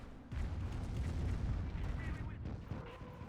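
Katyusha rocket artillery firing in a video game battle, a heavy rolling barrage of booms and rumbling detonations, sustained and fairly loud, with a voice talking over it.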